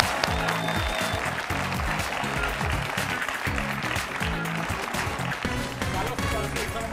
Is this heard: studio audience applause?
yes